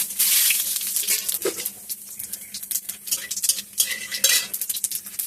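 Whole cumin seeds dropped into hot oil in a pan, a bright crackling sizzle at first, followed by clinks and scrapes of a metal spoon stirring against the pot, close and with no voices.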